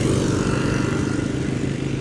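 A vehicle passes close by on a road beside a parking area, a steady loud engine rumble and drone that holds for about two seconds with no talk over it.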